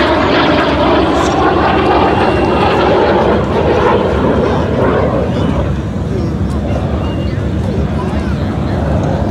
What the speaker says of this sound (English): he sure knows how to fly that L-39